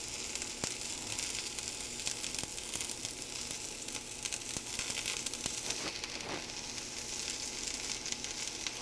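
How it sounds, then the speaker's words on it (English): One large onion sizzles steadily in a hot pan for a Philly cheesesteak. The frying hiss holds constant and fairly close throughout, with a few faint scrapes and no voices. "And I'm putting in 1 large onion right now."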